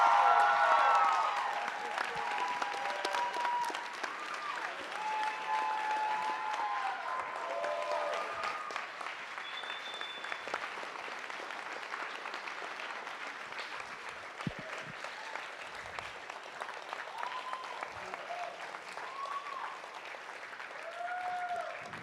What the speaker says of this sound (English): So let's give a standing ovation to Ms.